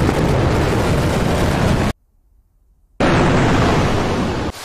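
Surface-to-air missile explosions in the DCS combat flight simulator during a 1991 Gulf War air-strike mission, as an SA-5 missile strikes its target. Loud, roaring blasts fill the clip, cut by a sudden near-silent gap of about a second before the rumble resumes.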